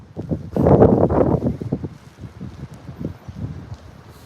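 Light wind from a typhoon in Taiwan gusts and rustles against the microphone, swelling briefly then settling into soft, uneven buffeting, fairly quiet and without speech.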